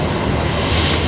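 Qantas flight 125 airliner at Brisbane Airport, departing for Auckland at night: a steady, loud broadband roar that holds an even level throughout, with no voices.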